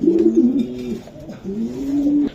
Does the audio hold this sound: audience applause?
no